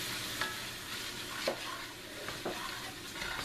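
Harvest food coated in syrup is stirred in a pan, giving a soft, steady sizzle with a few quiet scrapes at regular intervals, fairly faint and with no voices.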